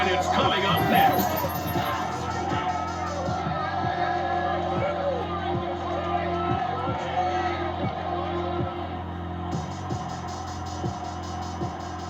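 Stadium crowd at Ford Field in Detroit in the Madden NFL 22 video game, Chargers versus Lions, a steady rumbling crowd murmur with scattered cheers and whoops running throughout, under a repeating low rhythmic pulse, with no voice over it.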